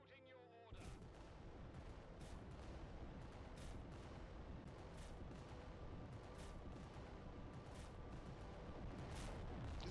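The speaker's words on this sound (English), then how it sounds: "Fire everything." Massed titan weapons fire in the Warhammer video game Adeptus Titanicus: Dominus, a dense continuous barrage of heavy gunfire and booming blasts that starts abruptly and keeps roaring at steady loudness, with faint voices underneath.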